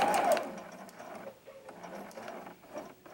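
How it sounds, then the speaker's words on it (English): A sewing machine stitches a quarter-inch seam while piecing a quilt block, making a quiet, steady mechanical whirr with faint rhythmic ticking close by. "I'm going to sew my 1/4 inch seam."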